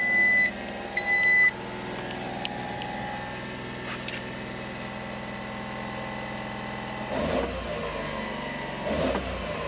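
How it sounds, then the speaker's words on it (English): 1995 Honda Street Racoon 4WD with a cold engine, beeping a few times before settling into a steady, slightly raised idle on auto choke, heard up close with faint handling thumps. "It's gonna idle a little higher because of the auto choke"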